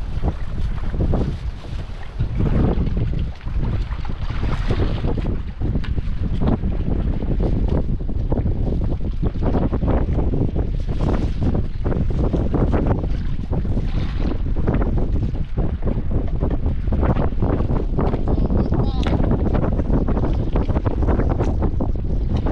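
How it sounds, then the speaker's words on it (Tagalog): Strong gusts buffet a phone microphone outdoors, producing a continuous loud rumbling roar with sharp thumps throughout, no voices heard. "Grabe lakas ng hangin."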